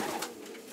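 Racing pigeons from a Kozienice loft give a short, soft coo, faint and close, heard alone with no talk over it.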